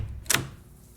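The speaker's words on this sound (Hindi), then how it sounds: "विकी ने अपने कमरे का दरवाजा खोला" A bedroom door opens with one short, sharp clack and swish, clear and fairly close, after which the room falls quiet; used as a storytelling sound effect.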